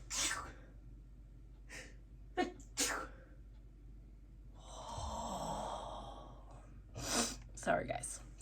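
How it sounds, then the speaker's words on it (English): A single loud sneeze bursts out after a few quick breaths and sniffs, followed by another sharp breathy exhale, close and clear. "I have to sneeze."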